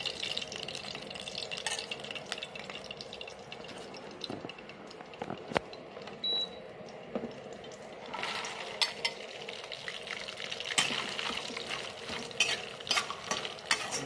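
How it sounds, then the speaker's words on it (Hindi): Fox nuts (makhana) roast in two to three spoonfuls of ghee while a spoon stirs them around the pan, making a soft, continuous sizzle broken by occasional scraping clinks and rattles, heard close and with no talking. "हम देखिए 2 से 3 चम्मच घी मैं डाल करके मखाना को भूनेंगे।"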